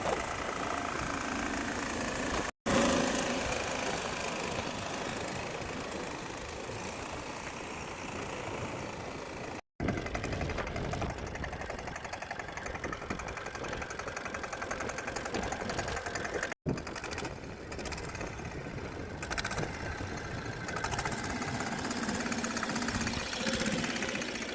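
A tractor engine runs steadily through a driving lesson, a continuous loud rumbling drone close by, broken three times by brief sharp cutouts, with no one talking.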